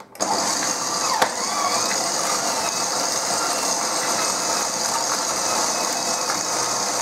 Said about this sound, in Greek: Ξεκινάμε από χαμηλή ταχύτητα, να μην πετάξει τη ζάχαρη με το βούτυρο απ' έξω.